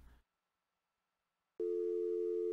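Busy signal from a phone in a Nancy Drew mystery game: a loud, steady electronic tone that starts abruptly after near-silence and repeats in fast, even pulses.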